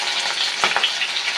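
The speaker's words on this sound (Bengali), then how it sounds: "পুরো মাছটা ভেজে নেব" Pieces of fish fry in hot oil for a Bengali-style fish curry, a steady, dense sizzle close by with a brief sharp clink midway, like a utensil touching the pan.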